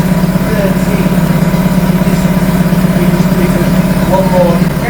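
AC Cobra replica kit car engine idling close by, a loud, steady low rumble with a slightly uneven beat that runs without a break, while people talk over it.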